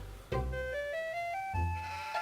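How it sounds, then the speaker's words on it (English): Eerie sheep bleats from the horror video game Harvester, two drawn-out wavering cries close up, the second starting after a short gap, over a low droning background. "What is with the scary hell sheep there with the red glowing eyes?"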